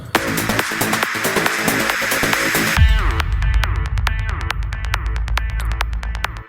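Synth lead melody on a Biker Lead preset with quarter-dotted delay, reverb and portamento, gliding notes that repeat in a bright pulsing pattern over a thumping beat, loud and upfront with no talking.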